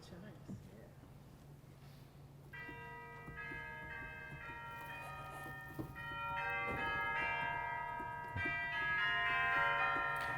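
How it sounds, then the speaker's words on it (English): Real orchestral chimes on a Nichols and Simpson pipe organ, sounded by a small hammer, ring out as a series of bright metallic bell tones with long overlapping decays, each strike building on the last in a quiet hall. "There's a real set of, that basically just controls a little hammer that hits orchestral chimes."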